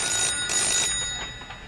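A telephone rings with a bright, trilling bell, its tone repeating in short bursts over faint background noise.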